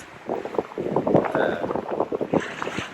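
A sailboat reaches across the Bay of Biscay at about 5.5 knots in roughly 10 knots of wind. Loud, gusty wind rush and choppy water wash against the hull fill the recording, close to the microphone.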